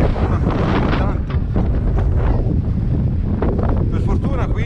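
Strong, cold autumn wind in the Antrona mountain valley roars and buffets the microphone with steady loud rumbling gusts, a voice talking faintly beneath it.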